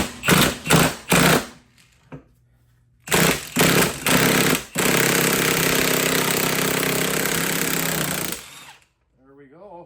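A Milwaukee impact wrench works on a 1981 Camaro steering gearbox: several short loud hammering bursts, then a long sustained rattling run lasting several seconds, close and harsh, followed by a brief voice at the end.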